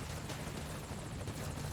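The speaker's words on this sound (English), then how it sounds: "So I called the helicopter ahead of time, so it's already right here" Helicopter in the video game Metal Gear Solid V: Ground Zeroes, a steady, continuous rotor and engine drone holding at close range with no talk over it.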